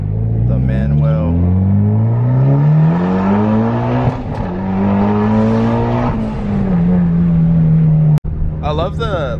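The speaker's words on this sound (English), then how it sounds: "yeah, that's a noisy car, man" Loud engine of a Nissan with stock boost controller revving hard, pitch sweeping up and down continuously for several seconds, with a brief sharp crack near the end and a second rev starting after; people talk over it.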